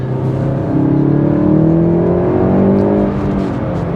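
A VW Golf GTI Clubsport S, front-wheel drive, accelerating hard from inside the car, its engine note rising steadily through the revs in a loud, sustained drone, with no talking.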